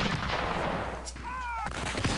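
Artillery fire in the Civil War Generals 2 video game: a dense, continuous barrage of booms and crackling blasts, with a brief whistling tone partway through.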